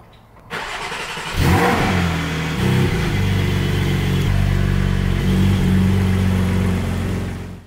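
A Porsche GT4 sports car engine catches and settles into a steady, loud, close idle with slight revs, humming continuously to the end.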